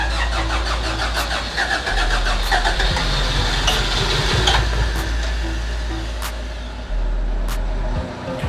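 An old JDM car, with six-year-old fuel in the tank, cranks and fires up, then runs at a rough, steady idle with a few sharp clicks.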